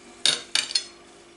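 A knife cuts into a microwave lemon sponge cake, with three short, light clinks and taps of metal on a plate in quick succession, close and fairly quiet.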